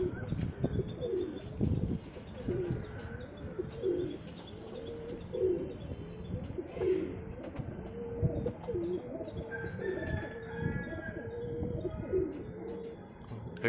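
Pigeons coo steadily in a repeating rhythm, nearby and clear, with occasional chirps and a little wing flapping mixed in among the birds.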